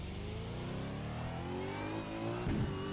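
Australian Supercar in the iRacing simulator accelerating flat out toward turn one, its engine note climbing steadily in pitch as it pulls through the revs, loud and continuous with a brief rougher burst near the end.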